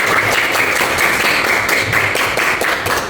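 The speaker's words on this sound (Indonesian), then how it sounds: "Tepuk tangan untuk kita semua." Brisk clapping from a classroom of students during a religious education lesson, close and fairly loud, with rhythmic bursts running throughout.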